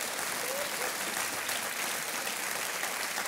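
Studio audience at the quiz show Kaun Banega Crorepati breaking into dense, sustained applause that stays even and loud for the whole stretch, with no pauses and no voice on top.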